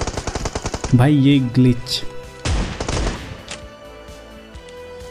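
Shotgun and M4 fire in PUBG Mobile: a rapid burst of close automatic shots opens, then scattered heavier blasts follow while someone talks briefly over the gunfire.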